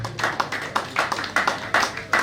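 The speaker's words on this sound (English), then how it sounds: "you guys should give me a round of applause" Round of applause at an official inauguration ceremony and lecture, a handful of people clapping in loose, sparse bursts, fairly close and uneven in rhythm.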